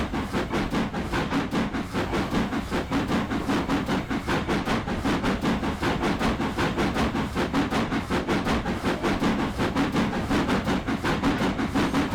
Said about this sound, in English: Got a feeling this train is heavy.